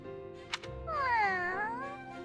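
A cat meows in the Fire Emblem Three Houses video game, one drawn-out, wavering meow rising and falling, preceded by a short clicky game sound effect.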